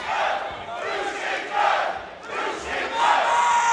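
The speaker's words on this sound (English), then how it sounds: "I love it when the crowd gets behind the fighters" Crowd at an MMA event roars and chants in surging waves, a loud, rhythmic swell of many voices filling a large arena, rising and falling continuously.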